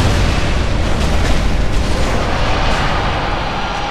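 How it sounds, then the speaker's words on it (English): An explosion attack from a boss in the video game Dark Souls, a loud, dense booming blast with sustained rumbling debris that fades slightly toward the end, heard alone without talk. "So weary of that explosion attack."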